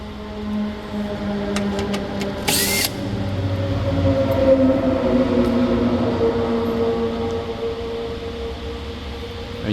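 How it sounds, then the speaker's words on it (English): A power drill backs screws out of the front bumper of a 2020–2023 Toyota Tacoma, giving a close, sustained motor whine that rises and falls in pitch after a brief rattle. "Okay, so we're gonna remove the screws."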